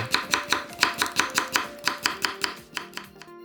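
A knife slices a cucumber into thin rounds on a cutting board: about fifteen quick, evenly spaced chops in a brisk rhythm, crisp and close, with the cuts thinning out near the end and no talking.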